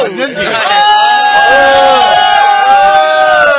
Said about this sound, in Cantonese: 聽到咁大歡呼聲